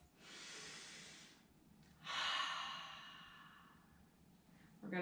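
Slow, deep breaths during a yoga stretch, an airy inhale followed by a longer sighing exhale, close and clear with no talking.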